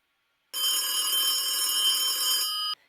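A telephone gives one steady electronic ring lasting about two seconds after a brief silence, then cuts off abruptly, bright and fairly loud with nothing else heard.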